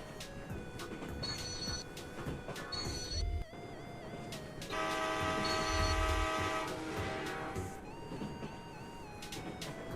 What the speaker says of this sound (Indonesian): Wah, ada kereta yang lagi lewat teman-teman di depan.